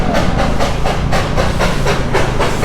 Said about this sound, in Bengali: সামনেই টয় ট্রেন যাচ্ছে, দেখো কি সুন্দর লাগছে দেখতে।